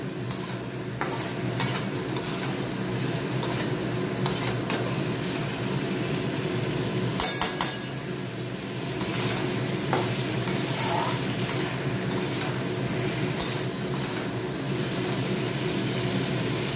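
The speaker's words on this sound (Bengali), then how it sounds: "এবার জল দেবো, দিয়ে একটু মিষ্টি দিয়ে দেবো" Water is poured into a spice masala frying in a pan, raising a loud, continuous sizzle, with the spoon scraping and stirring at intervals.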